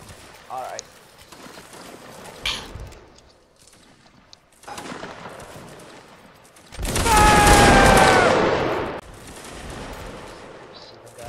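Muskets fire in volleys during reenactment training of Prussian-style infantry. A few sharp scattered shots come first, then a long, loud rolling fusillade sweeps past, with people talking between the shots.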